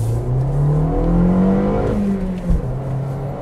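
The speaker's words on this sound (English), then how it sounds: "So pulling out here, giving it the beans in traffic." A 2021 Toyota Corolla SE with a six-speed manual accelerates hard in traffic, its engine note climbing steadily in pitch before easing off with a brief bump near the end, loud and close.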